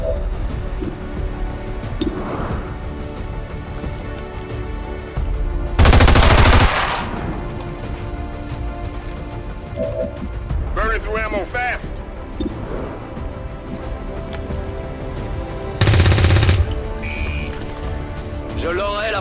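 Rapid gunfire bursts in the video game XCOM 2: War of the Chosen, with two loud broadband blasts standing out over a bed of game sounds and intermittent speech.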